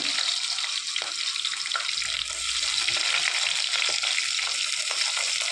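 Shallots, green chilli and curry leaves hiss steadily in hot frying oil for a Kerala fish curry, with faint occasional stirring taps and no voices.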